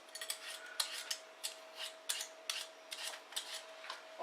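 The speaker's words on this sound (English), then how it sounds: "And then we're going to chop them up into similar sized pieces to the onions." Vegetables being chopped into pieces on a cutting board for a Spanish chicken and chorizo bake, heard as a series of light, close knife taps at an irregular steady rhythm with no talking.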